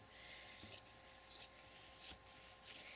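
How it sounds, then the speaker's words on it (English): Scissors snip along the edge of chenille fabric in four quiet, evenly spaced crisp cuts, each a short hissing slice heard close up against a faint hum. "I'm just going to use my scissors to cut this edge"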